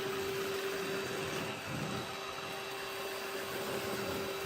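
An ONSON stick vacuum runs on its slow setting, picking up oats from the floor with a steady, even motor drone and a thin constant whine.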